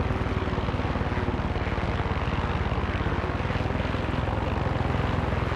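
A video game helicopter's rotor thumps in a fast, steady rhythm, loud and close, with a constant engine drone and no voices, in Far Cry 6.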